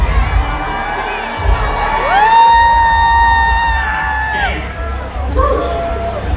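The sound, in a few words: concert crowd cheering at Hmong American music celebration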